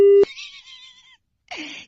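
A phone line gives a short, steady busy-tone beep after a prank call is hung up, then gives way to brief voice sounds from the call.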